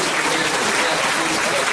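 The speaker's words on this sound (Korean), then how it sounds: "여러분 박수 한번 쳐주시죠." Audience at a redevelopment association general meeting applauding, a steady, fairly loud wash of many hands clapping throughout, with voices mixed in.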